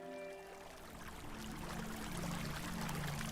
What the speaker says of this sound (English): this stream is really fast